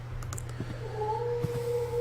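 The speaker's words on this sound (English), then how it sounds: "I hear a cat meowing in the distance." A cat meows in the distance in The Last Door video game, one drawn-out wavering cry over a low steady hum, with a few faint soft knocks before it and no voices.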